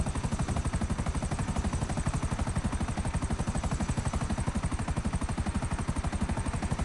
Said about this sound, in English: we're going to land on top of one of my helipads so that we can repair the chopper because it sounds like crap